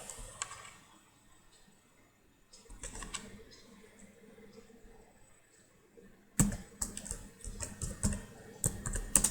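Java code is typed on a computer keyboard in bursts of clicky keystrokes, sparse at first, then faster and louder toward the end, while someone talks quietly in Hindi.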